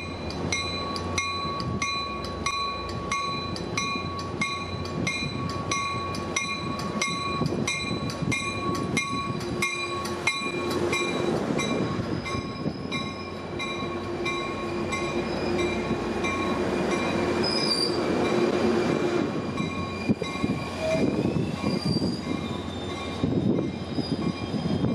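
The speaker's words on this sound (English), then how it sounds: "My first ride of the day would be on this Bombardier train" Steady rumble of a Caltrain diesel commuter train in motion, riding in a Bombardier coach, with rhythmic wheel clatter on the rails and occasional high metallic squeals.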